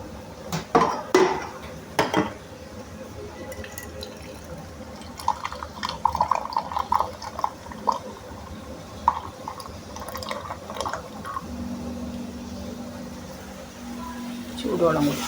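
Hot water is poured into a ginger curry in a cooking pot, with clinking of a vessel and utensils, a short run of pouring and splashing, and someone talking over it.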